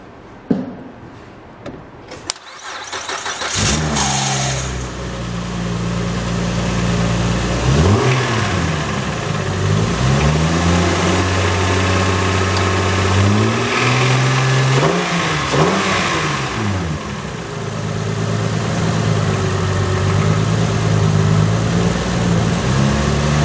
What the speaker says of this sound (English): And now go ahead and start it up for you here.